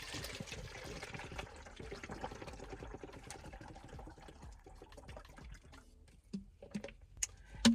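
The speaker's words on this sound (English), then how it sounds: "So I am going to get my water, pour it in here." Water is poured into a container at close range in a quiet indoor setting, a soft continuous trickle and splash that tapers off, followed by a few sharp handling knocks.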